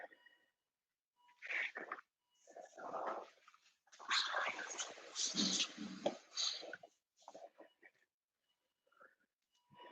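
A dog whimpers and fusses indoors during a vinyasa flow yoga class, in short broken bursts with quiet gaps, one louder stretch in the middle.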